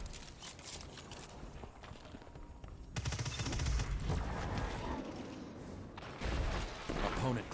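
Shotgun blasts in a competitive online shooter game, loud bursts of gunfire with clattering reports, some in rapid succession, heard near and over ambient game noise with talk in the background.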